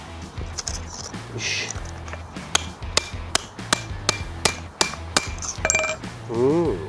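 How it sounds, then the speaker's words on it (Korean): A hammer strikes a pair of 3M polycarbonate safety glasses about a dozen times in uneven succession. Each blow is a sharp, close, plasticky crack, with faint voices and handling noise in between. "누가 보안경을 망치로 치는 사람은 어디 있겠습니까?"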